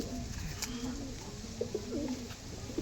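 An adult pigeon coos softly nearby, with a few low, burbling calls over faint background hum.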